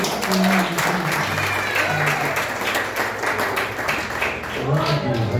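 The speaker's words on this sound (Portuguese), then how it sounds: "E uma salva de palmas ao Senhor." Church congregation breaking into applause, many hands clapping in a dense, sustained wash while voices call out and speak over it.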